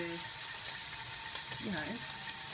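A steak fries in a pan with a low, steady sizzle. A faint voice murmurs briefly over it partway through.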